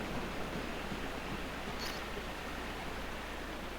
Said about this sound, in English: Follow the white noise.